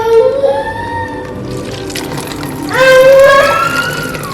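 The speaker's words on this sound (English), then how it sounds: "I'm gonna store my iced coffee in it. So literally I'm just gonna pour it right in there" Iced coffee glugs and gurgles as it is poured into an empty plastic creamer jug, with rising bubbling tones that swell again near the end, close and fairly loud.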